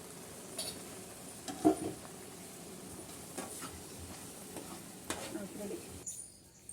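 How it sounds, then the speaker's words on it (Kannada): Tomato gravy with MTR masala powder and a little sugar being stirred in a pan, producing a soft low sizzle with occasional scraping and clinks of the spoon close by, fairly quiet, ending in a brief silence. "ಇವಾಗ ಮಿಕ್ಸ್ ಮಾಡಿರಿ ಸ್ವಲ್ಪ ಶುಗರನ್ನ ಆ್ಯಡ್ ಮಾಡಿಕೊಂಡು ಮಿಕ್ಸ್ ಮಾಡ್ಕೊಳ್ಳಿ"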